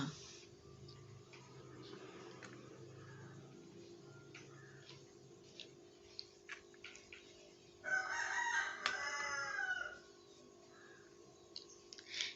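Backyard chickens heard in a home kitchen: quiet clucks and ticking sounds build to one loud rooster crow in the middle, then fade back to soft, scattered clucking.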